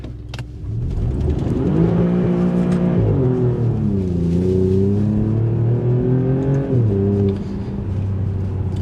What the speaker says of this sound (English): I'm going to light the wheels up.